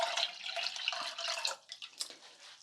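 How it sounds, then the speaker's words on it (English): Water poured into a pot of boiling water on a stove, a steady close splashing pour that breaks into a few trailing drips and splashes at the end, with no talk. "Now I'm going to add 4 more cups of water."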